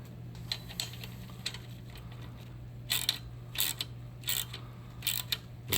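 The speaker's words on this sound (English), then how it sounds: "micro ratchet, and we're going to start turning this" A micro ratchet clicks in short bursts as it turns the bolt on the dual mass flywheel of a Dodge Dart/Fiat 1.4-litre dual dry clutch transmission, several quick close ratcheting runs over a steady low hum.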